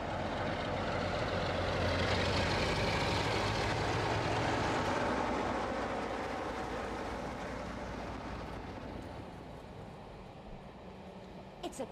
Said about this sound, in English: Come on, Pippin, quickly before the train leaves.